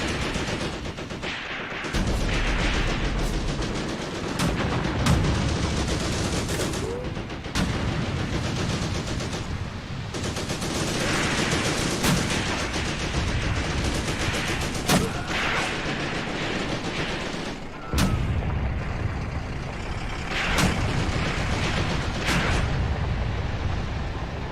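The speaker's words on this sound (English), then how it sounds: "Where are these mortars firing from?" Mortar blasts and rattling gunfire from Graviteam Tactics, a combat video game, with dense continuous shooting and repeated sharp explosive thumps throughout, loud and busy with no talk.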